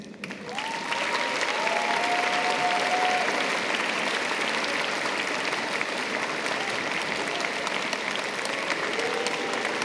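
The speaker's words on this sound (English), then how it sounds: "Told you there'd be time for some thunderous applause." Graduation ceremony audience for Faculty of Arts graduates bursting into loud, sustained applause that fills the hall with dense clapping and some cheering, continuing steadily throughout.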